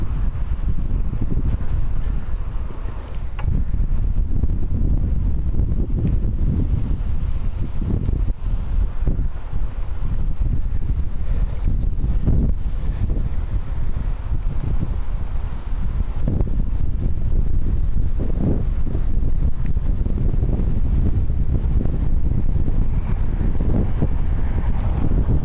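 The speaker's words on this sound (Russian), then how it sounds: "Ух, какой ветер сильный поднялся-то, надо же." Strong wind roaring steadily across the microphone during a bicycle ride in Espoo, a loud, continuous low buffeting rush with gusty swells throughout and no talking.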